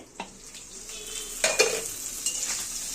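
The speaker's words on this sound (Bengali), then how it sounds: "এখন এটা খুলে আর একটু নাড়াচাড়া দেওয়া হবে" Shutki bhorta being stirred in a frying pan, with crisp sizzling and sharp scraping and clinking of a utensil against the pan, close and alone.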